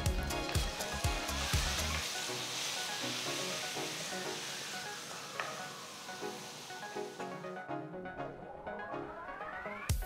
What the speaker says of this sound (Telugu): ఇదంతా బాగా కలిపి వీటిని వేయించాలి.